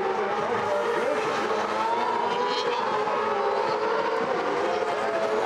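British F1 racing sidecars at speed on the Oulton Park circuit during a 2019 race, a loud sustained engine roar that holds steady and close throughout with no voices over it.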